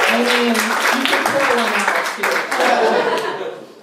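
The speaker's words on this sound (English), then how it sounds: "You can clap for that." Applause from a comedy club crowd at an iO Chicago stand-up show rises in a dense patter of claps mixed with voices and light laughter, then fades out.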